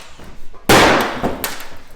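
An axe strikes the metal roof of a truck being cut apart, landing as one loud, sharp clanging impact that rings out briefly before fading, with lighter knocks after it.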